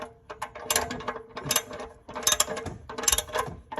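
Oil filter twisted snug by hand under a Honda Accord, a close series of ratchety clicking and scraping bursts that come in bunches with short gaps between.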